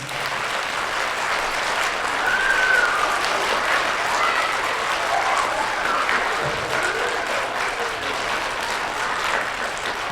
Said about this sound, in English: All right, everyone start clapping again.